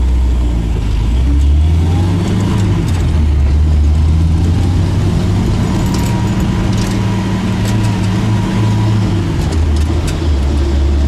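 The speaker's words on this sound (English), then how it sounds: "today we're driving an Mgb Gt." A 1972 MGB GT engine runs loud and steady nearby, rising and falling in pitch as it revs, with no voices.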